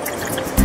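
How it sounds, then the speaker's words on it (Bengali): Water splashes from a small bowl into a pot of fried spices and boiled chicken for a clear chicken soup, a short, loud gush arriving near the end after a quiet kitchen background. "এই ছোট বাটিরই 1 বাটি আমি জল দিয়ে দিলাম স্যুপের জন্য"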